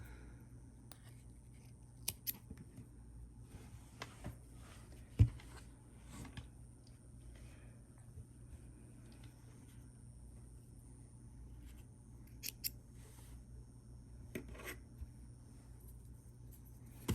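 Scissors snip through paper as a cut-out letter M is trimmed, giving a few sharp isolated cuts spread over a quiet stretch with a low background hum.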